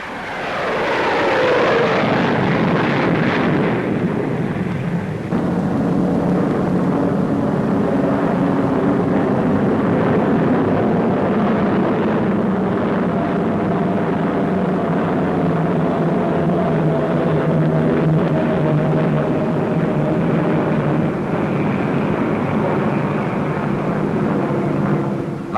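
An Avro Vulcan delta-wing bomber flies at Farnborough, opening with a loud descending jet whine, then a sustained heavy engine roar with layered droning tones that continues steadily and loud to the end.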